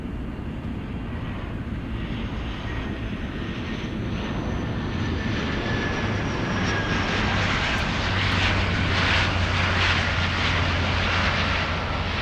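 A large airliner takes off from a runway, its jet engine roar steady and loud throughout, swelling slightly toward the end as the aircraft powers away.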